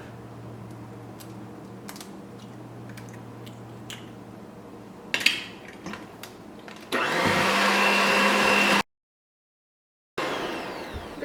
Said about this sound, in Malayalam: ഓരോ മുട്ട വെച്ചിട്ട് ചേർത്തിട്ട് ബീറ്റ് ചെയ്തെടുക്കുക